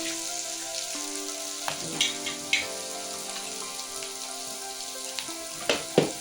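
Capsicum curry frying in a pan makes a soft, crackling sizzle with scattered pops and stirring clicks, partly under tonal background music.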